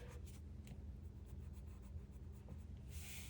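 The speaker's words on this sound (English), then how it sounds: "let's go in there with our black pencil" A black pencil sketches on paper, making soft, close scratching strokes in short repeated bursts over a low, steady background hum. No voices are heard.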